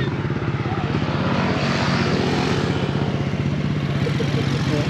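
A KTM RC sport motorcycle engine drones steadily and loudly near the microphone, with a fast rhythmic pulsing, ridden along a sea wall road in Dumangas.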